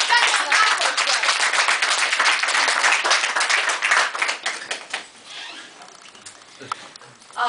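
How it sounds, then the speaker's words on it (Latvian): An audience claps in dense, loud applause that goes on steadily for several seconds, then thins out and fades toward quiet near the end. "tagad aplaus"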